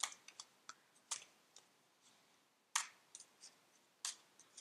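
Tarot cards being shuffled by hand: sparse, crisp clicks and short riffling snaps in uneven bursts, close and fairly quiet, with no talking.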